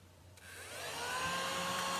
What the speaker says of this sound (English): should we try the vacuum cleaner? Let's see if it works.